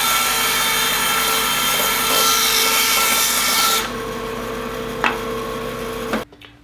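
A band saw cuts through wood held in a V block, giving a loud, steady buzzing whir that changes tone partway through as the blade finishes the cut, then a short knock before it quickly stops.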